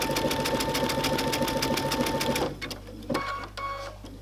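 Loud, steady rhythmic chatter of a sewing machine running decorative stitches for about two and a half seconds, then it stops and the needle is repositioned with a few slower, softer mechanical clicks and short runs.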